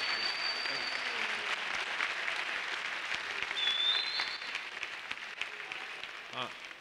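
Conference audience applauds the opening speaker at a university Black male initiative annual event, steady broad clapping from a large crowd filling the hall for several seconds, tapering slightly near the end.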